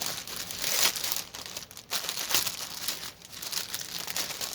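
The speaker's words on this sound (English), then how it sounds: "See if I can pull everything out and not make too much crinkling." Plastic packaging of pre-stamped cross stitch kits crinkling and rustling up close as the contents are pulled out, in irregular bursts with brief pauses, no talking.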